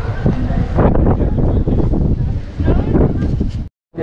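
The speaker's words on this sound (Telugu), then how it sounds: "మేమే కొట్టుకుపోతాం మీరు గాలికి." Strong wind roars and buffets the microphone during a motorcycle ride from Hyderabad to Ladakh, a dense continuous rush that cuts out briefly near the end; a voice may be faintly mixed in.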